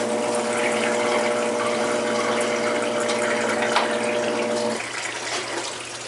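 Water is pumped and drained out of an aquarium tank being set up for a 75-gallon Lake Tanganyika build, a steady mechanical hum with rushing water throughout that drops and thins near the end.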